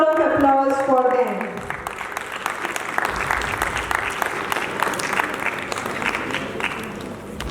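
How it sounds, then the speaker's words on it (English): Audience at a college farewell event applauds graduating students, a voice fading at the start giving way to a sustained round of crisp, moderately close clapping lasting several seconds. "A big round of applause for them"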